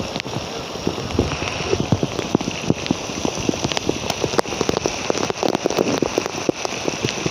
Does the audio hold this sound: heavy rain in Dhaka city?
yes